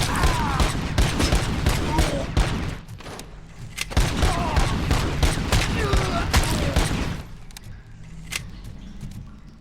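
Bursts of rapid gunfire rattle through a RoboCop: Rogue City firefight, loud dense volleys with short pauses, broken by occasional single shots, and voices call out over the shooting.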